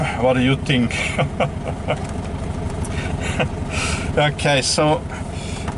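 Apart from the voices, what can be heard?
1961 Volkswagen Beetle engine running during test drive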